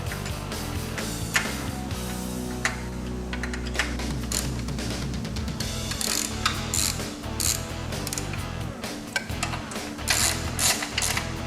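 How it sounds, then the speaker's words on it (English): Hex head fasteners on a CSC belt drive being tightened, with rapid rattling ratchet clicks running in bursts throughout, loud and close, with no talking. "tighten all fasteners previously loosened in step 1, 8 hex head fasteners, and 1 nylock nut"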